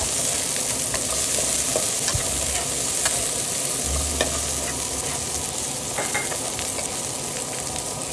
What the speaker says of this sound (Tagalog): Sunod po natin yung sibuyas guys. Ayan po, halo-haloin po natin.